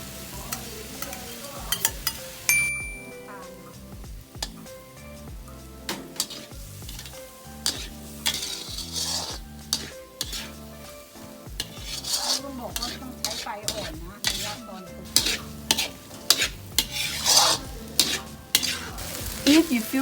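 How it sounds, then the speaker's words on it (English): Baby corn and carrots stir-fried over low heat in a pan for a Thai stuffed omelette filling: steady soft sizzle broken by frequent scraping and clinking of a spatula against the pan. "Stir in your baby corn and carrots."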